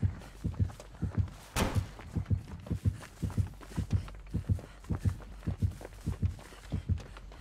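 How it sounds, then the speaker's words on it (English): A steady, loud thumping heartbeat from Dead by Daylight, marking the killer close by, with paired low beats repeating at a quick even pace, plus one sharper thud early on. "the heartbeat is definitely how you know he's close"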